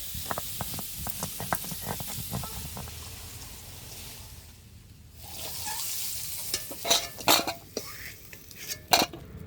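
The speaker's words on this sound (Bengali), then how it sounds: "তেলের মধ্যে আলুগুলো ভালো করে ভেজে নেব" Potatoes fry in hot oil with a steady sizzle, while a utensil clinks and scrapes against the pot in bursts of stirring, close and moderately loud with a brief lull midway.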